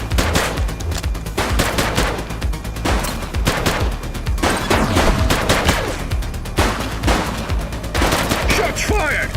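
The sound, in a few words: gunfire in a shootout, from the video game The Precinct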